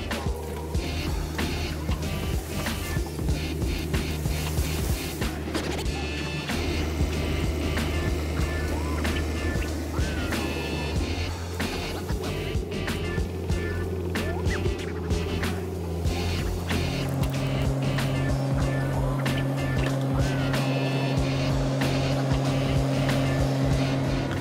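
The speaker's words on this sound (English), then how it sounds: "the Bobcat E42R2 mini excavator easily removes hardwood trees" A Bobcat E42R2 mini excavator works at removing hardwood tree stumps, its diesel engine droning steadily with shifting pitch, layered with creaks, knocks and crackling debris, close and continuous.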